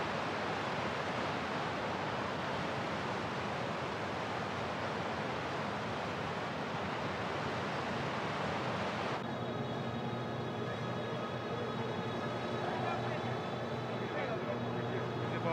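Large waterfall roaring as a dense, steady broadband rush for the whole stretch, loud and constant, with the tone turning thinner and more tonal partway through, while people talk over it.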